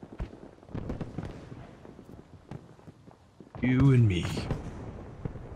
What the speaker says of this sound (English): I'm getting one rocket into you